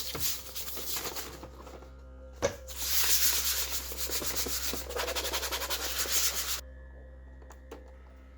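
A PlayStation 4 console casing being wiped and rubbed clean by hand, a steady close scuffing and sanding-like friction that runs for several seconds with a short pause, then fades to quiet near the end.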